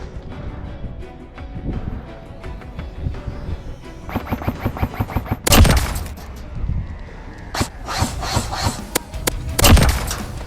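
Airsoft skirmish on a muddy outdoor field with Binary M4 rifles: several bursts of rapid snapping shots, some close and loud, others farther off, with scattered single cracks between.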